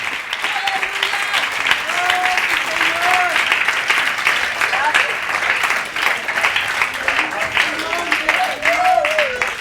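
Church congregation clapping for the Lord during a Spanish-language sermon, a steady dense wash of many hands throughout, with voices and shouts of praise rising over it.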